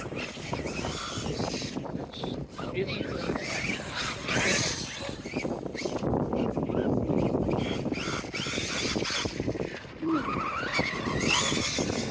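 Radio-controlled cars skidding and whining around a banked turn on an outdoor track, tyres scrubbing and motors buzzing in bursts under a steady noisy background with faint voices.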